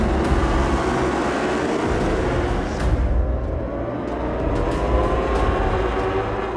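Superbikes launch off the grid together at the start of race one at the Mandalika circuit, a dense, loud, sustained roar of many engines blending into a continuous wall of sound with a few rising whines, no voices.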